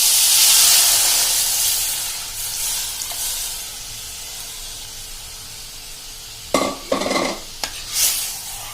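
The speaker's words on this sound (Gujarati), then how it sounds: "આ જે લિક્વિડ તૈયાર કર્યું છે કઢી માટેનું એ નાખી દેશું" Kadhi liquid hits hot tempering oil with a loud, bright sizzle that swells and then settles into a steady hiss, broken near the end by a few sharp clanks of a pot or ladle.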